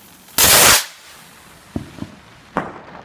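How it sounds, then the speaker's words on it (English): Bonfire Night fireworks: one huge close crackling blast bursts out first, then three sharper separate bangs follow in irregular succession, each fading into a faint hiss. "Someone's got giant fireworks over"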